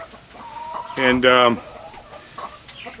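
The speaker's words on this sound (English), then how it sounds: "So Mama Hen's good. The little chick looks like she's gonna be okay." Hen and chick in a backyard flock; a few close, loud clucks and squawks in a short burst, with faint chirps and a brief spoken word around them.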